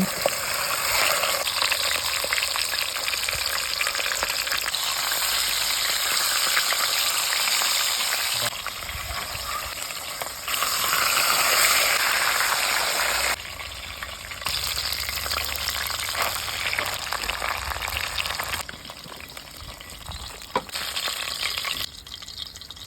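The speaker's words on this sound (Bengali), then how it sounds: "কড়াই বসিয়ে আঁশ জ্বালিয়ে তেল দিয়ে মাথাগুলো ভেজে নেবো" Fish heads fry in hot oil in a kadai for a Bengali home recipe, giving a loud, continuous sizzle with bursts of crackle and brief quieter lulls as the pieces are stirred and turned.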